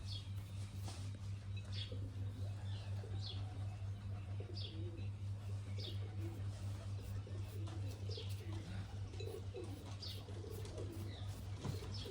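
Pigeons give soft, repeated coos at a quiet, close distance over a constant low electrical hum.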